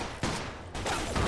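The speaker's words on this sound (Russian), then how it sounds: "Опять стрельба." Bursts of gunfire in a Mafia 2 shootout: dense, loud volleys that surge and persist across the moment with brief dips between them, no voices over it.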